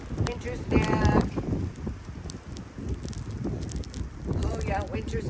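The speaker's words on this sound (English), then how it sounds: "Oh, it's windy." Wind gusting through a winter forest in Michigan's Keweenaw region, a broad rushing roar that surges and eases, heard close with buffeting on the microphone and a voice speaking briefly.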